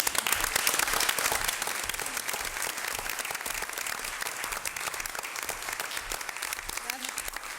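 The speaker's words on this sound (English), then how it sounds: "I feel like we should give them an applause for" Sustained applause from an audience at a school board meeting, dense clapping throughout that fades slightly toward the end.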